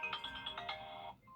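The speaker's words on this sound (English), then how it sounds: "Even the default tone Reflection has an updated sound." The updated default Reflection ringtone plays a short, bright melodic phrase of chiming, bell-like notes that fades out within a second and a half, quiet and with no talking.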